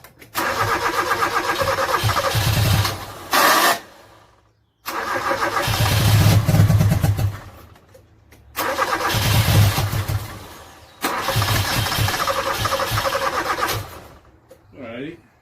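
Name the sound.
1986 Toyota Corolla KE70 engine cranking and starting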